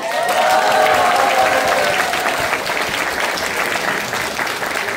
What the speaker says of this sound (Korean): 다시 한번 큰 박수 주시기 바랍니다